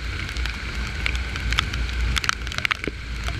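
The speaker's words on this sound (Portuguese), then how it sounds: "tá chovendo" Steady rain falling on a wet city street where motorcycle couriers ride, a constant close hiss of drops with scattered sharper patters and a low rumble underneath, no voices.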